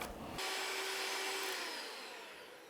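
An electric whisk runs up to speed through a small hole cut in plastic wrap over a mixing bowl, giving a loud, steady, high whirring that fades slightly toward the end, with no talking.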